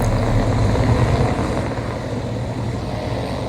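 A helicopter drones steadily with a broad, loud rumble during a military operation in a video game. The noise holds constant throughout with no clear voices.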